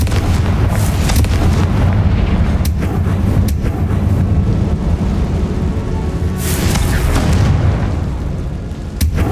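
A Confringo spell explodes in Hogwarts Legacy, loud continuous booming rumble with several sharp blasts cutting through the dense roar.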